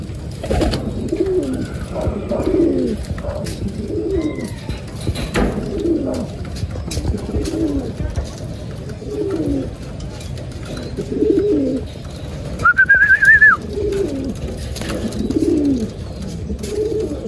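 Pigeons coo in soft, repeated throaty phrases at close range, with a brief higher chirp partway through and faint background noise around them.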